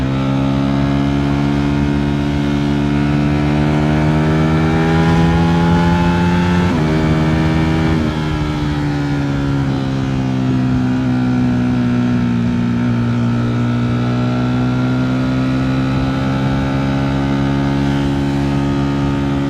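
A Ducati motorcycle engine rumbles steadily while riding, its pitch shifting with gear changes and throttle, a sustained close drone with a noticeable dip and rise around the middle, no voices.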